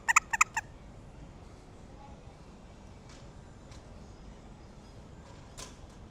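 Squeaky rubber chicken toy squeezed several times in quick succession, sharp close squeals at the start, followed by quiet background noise.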